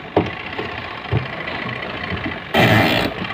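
Turning the original timer dial on a Polytron washing machine makes scattered light clicks and ticks, then a short grinding rasp of the mechanism, heard close up and alone without voices.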